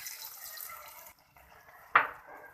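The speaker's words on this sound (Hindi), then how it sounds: "ये देखिए पानी डाला है, इसमें थोड़ा सा पानी और जाएगा" Water is poured into a pan of semolina halwa, a steady hissing flow that briefly stops, resumes, then ends in a sharp splash as more water goes in.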